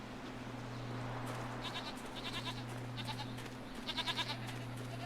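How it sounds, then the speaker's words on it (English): Goats bleat in the Jade Empire video game, several wavering cries coming in short bursts over a steady low hum. "These are just goats."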